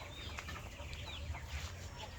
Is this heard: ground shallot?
no